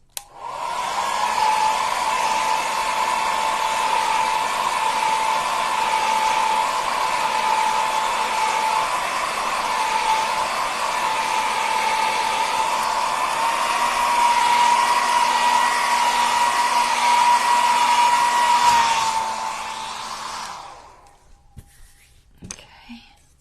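Hair dryer blowing steadily at close range to dry acrylic paint, a constant loud whooshing drone with a whining tone that runs for about twenty seconds before switching off, followed by faint handling sounds.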